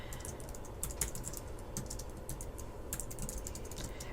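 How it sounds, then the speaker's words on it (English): Quick, uneven tapping on a computer keyboard, a close run of light clicky keystrokes over a quiet room hiss, with no talking. "their instinct is to type the question like this"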